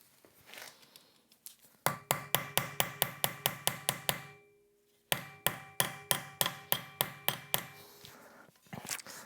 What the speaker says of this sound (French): Peut-être taper avec un vrai marteau.